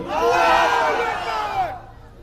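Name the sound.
elders in the audience shouting the takbir (Allahu Akbar)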